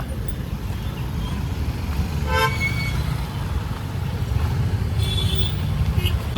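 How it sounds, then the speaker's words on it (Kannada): Busy road in heavy traffic, with a constant low rumble of engines and a few car horn toots rising above it, nearby and fairly loud. "ಸೊ ಇಲ್ಲಿ ನೋಡಿ ಗೈಸ್ ಫುಲ್ ಆಗಿದೆ, ಫುಲ್ ಟ್ರಾಫಿಕ್"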